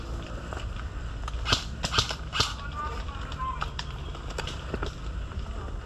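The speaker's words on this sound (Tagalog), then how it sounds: "Naririnig ko lang yung putok eh." Airsoft gunshots at a milsim event, a handful of sharp distant cracks and pops scattered irregularly over steady outdoor background noise.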